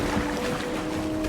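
A motorboat travels on a river in Indiana Jones and the Great Circle, heard as a steady low engine hum with water and wind wash, brief and moderately loud.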